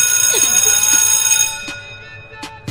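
A ringing bell with sustained metallic tones that fade out, followed by a couple of short sharp clanks.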